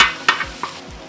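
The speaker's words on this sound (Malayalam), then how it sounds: "കടുകിട്ട് പൊട്ടിച്ച് നല്ല ചതച്ച ഇഞ്ചിയും വെളുത്തുള്ളി ഇട്ട് അതിനകത്തേക്ക് പൊട്ടിക്കുക." Crushed ginger and garlic hit hot oil with popping mustard seeds, giving a brief burst of sizzling with a few sharp crackles and stirring scrapes.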